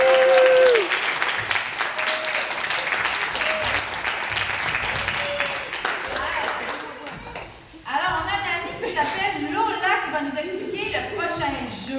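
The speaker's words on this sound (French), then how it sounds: "On les applaudit très fort, bravo!" A theatre audience at a children's stage show applauds loudly and steadily for several seconds, then the clapping thins as voices start talking over it.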